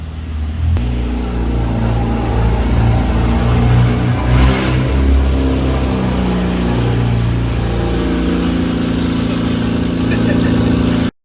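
A Mazda MX-5 Miata fitted with aftermarket headers and no muffler runs loud and steady close by, a raw, throaty idle with slight revving swells throughout.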